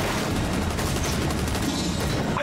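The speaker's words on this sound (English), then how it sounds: "Gunfire." Dense, continuous gunfire in Rainbow Six Siege crackles in a rapid barrage, loud and harsh, filling the whole short stretch.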